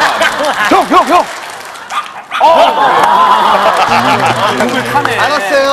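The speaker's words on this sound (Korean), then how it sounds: "형을 좋아하는 강아지들이에요" Several dogs bark and yip in short excited bursts close by, mixed with people talking and laughing over them.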